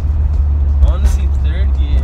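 A turbocharged car with a big turbo pulls hard in second gear, giving a loud, deep, steady engine roar that fills the whole moment. A person talks excitedly over it.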